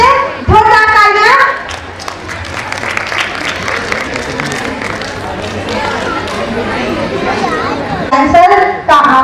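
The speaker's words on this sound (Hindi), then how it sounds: "तो दोनों तरह से जोरदार तालियां।" Audience applause at a school annual function, a dense steady wash of clapping from a large crowd lasting several seconds, with children's voices and a speaker heard at the start and end.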